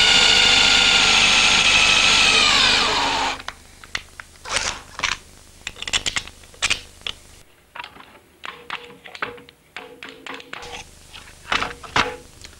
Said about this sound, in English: I think what I'm going to do next is drill the holes through there.